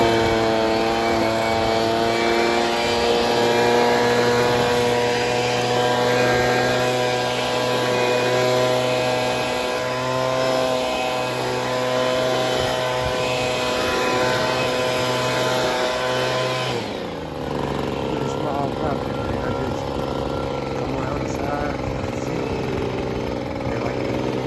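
Lawn mower cutting a small backyard, a steady loud engine drone with a droning harmonic hum that holds for a long stretch, then shifts pitch abruptly near the end as the load changes.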